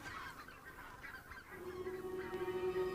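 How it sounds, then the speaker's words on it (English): Many white-fronted and red-breasted geese honk together in a busy, overlapping chorus while migrating over the Russian taiga, with one lower sustained tone joining partway through. "wave after wave of white-fronted and red-breasted geese fly south to wintering grounds in Europe"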